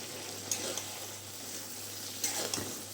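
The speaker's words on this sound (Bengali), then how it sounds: "এখন এই সবজির সাথে মাছটা আমি ভালো করে একটু কষিয়ে নেব।" Tengra fish is being stir-fried with a vegetable curry in a pan. A soft, steady sizzle runs throughout, with a few faint scraping stirs near the start and end and no talking.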